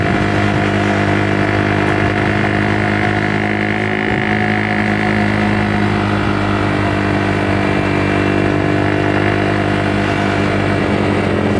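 Motorcycle engine idling while warming up outdoors in the late afternoon, a steady close, even rumble that holds throughout with no talk.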